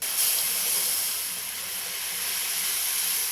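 Boiled hot water poured from a pan into hot roasted semolina for halwa, giving a steady, loud steamy hiss and sizzle that holds evenly from start to finish with no talking.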